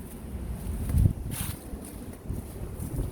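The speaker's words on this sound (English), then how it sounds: "Hear the wind?" Wind gusting across an open park at Silverburn Park in Fife, Scotland, a steady broad rush and low rumble buffeting the microphone, with a stronger gust near the middle.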